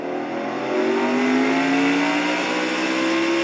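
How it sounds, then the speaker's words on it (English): A Nationwide Series stock car races at Mid-Ohio, its engine a loud, continuous close roar that climbs steadily in pitch through the turn. "Downshifting out in the 2nd gear."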